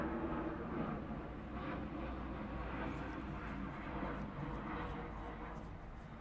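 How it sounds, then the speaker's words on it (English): A plane passes overhead as a faint, steady, distant drone running throughout, with a low rumble underneath and people's voices talking softly over it. "of course we got a plane flying over"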